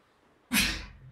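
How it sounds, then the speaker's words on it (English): One sharp, close sneeze bursts out after a quiet moment and trails off into a short breathy tail. "Attack of the sneeze"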